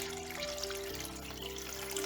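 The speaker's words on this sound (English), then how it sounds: "Now here we can add our 3 cups of water." Water poured into a pot of cooking mutton and potato curry, a steady close pouring and splashing that runs continuously for about two seconds with no talk.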